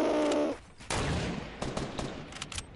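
Shooter video game gunfire bursts out in several sharp, loud volleys and single shots, with a brief lull between them.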